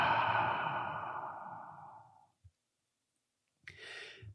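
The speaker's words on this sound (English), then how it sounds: "Exhale out the mouth. Nice deep inhale through the nose. One more cleansing breath." A single deep cleansing breath is exhaled slowly through the mouth, close and clear, fading out over about two seconds; after a short pause, a fresh inhale begins.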